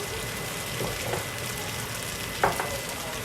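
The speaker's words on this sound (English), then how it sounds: "Hear them sizzling." Cabbage sizzles and crackles steadily in a hot frying pan with olive oil, with a brief clink of a utensil partway through.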